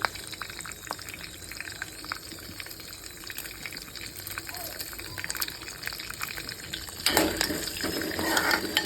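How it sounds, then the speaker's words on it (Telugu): Curry leaves and dried red chillies crackle and sizzle softly in hot oil, a faint close frying texture that grows louder and busier near the end. "అన్నీ బాగా ఫ్రై చేసుకోవాలి చూడండి మంచిగా ఫ్రై అయినాయి"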